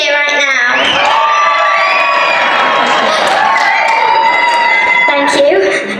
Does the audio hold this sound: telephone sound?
no